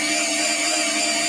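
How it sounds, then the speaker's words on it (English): Power drill with a self-feeding bit boring into wood, a continuous high-pitched whine held steady at full trigger, loud and close, with no voices. "I'm just going to hold the trigger and the drill."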